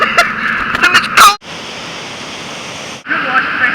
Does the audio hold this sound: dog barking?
no